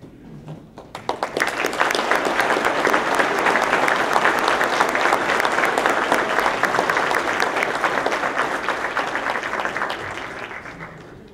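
An audience at a fire and rescue awards ceremony applauds firefighters and paramedics, with loud, sustained clapping that swells quickly, holds steady, and tapers off at the end.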